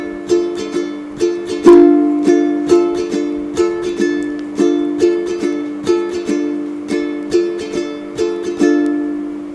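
Ukulele strummed through a full pattern, a steady rhythm of bright, closely spaced strokes on held chords, played alone and close with no talking.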